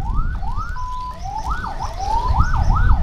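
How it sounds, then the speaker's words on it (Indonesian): A loud, close ambulance siren in its faster emergency pattern wails in quick rising-and-falling sweeps, shifting pattern midway, with engine rumble underneath. "kalau mendengar sirine kok semakin kenceng, semakin cepat seperti ini, berarti adik harus memberikan jalan untuk ambulan"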